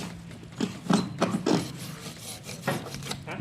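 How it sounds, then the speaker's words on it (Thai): A hacksaw blade cuts through foam with uneven rasping, rubbing strokes, a few louder pulls among softer scraping, close up and without talk. "ส่วนที่เป็นโฟมเนี่ยเราใช้ใบเลื่อยตัดเหล็กนะครับ"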